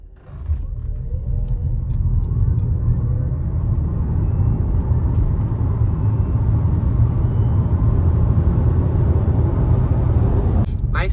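A JAC e-J7 electric car accelerates from 0 to 100 km/h on a highway, giving a steady, loud road and tyre rumble with a rising whine that holds for the whole run.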